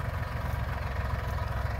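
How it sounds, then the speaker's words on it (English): A borrowed farm tractor's engine idles steadily up close, a continuous low rumble with a faint knocking pulse and no voices. "So his friend David is lending the use of this tractor."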